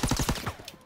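Rapid bursts of gunfire from a WWII-era shooter game, a quick string of loud close shots in the first half that fade into a short tail.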